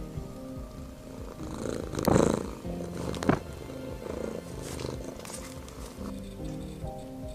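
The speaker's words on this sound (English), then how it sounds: "Another adaptation and interesting feature of the cat is its purr." A house cat purrs close by, a steady low rumble running under faint background sound, with a couple of brief louder rustles partway through.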